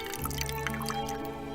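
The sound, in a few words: last drops of tea dripping from a small teapot into a cup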